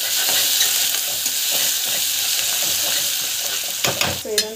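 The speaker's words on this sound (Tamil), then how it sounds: "ஸோ நல்லா வதக்கிட்டுருக்கேன்." Potato gravy with turmeric, asafoetida and rock salt sizzles and fries in a pan, a steady close hiss with soft stirring strokes, ending in a few louder scrapes and clinks of the spoon against the pan.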